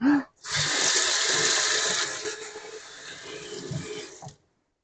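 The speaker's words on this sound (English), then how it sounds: "I guess just gotta wash my hands again." Tap water runs steadily from a faucet for about four seconds as hands are washed in a home kitchen during pork chop preparation, a close, even gushing stream that stops abruptly.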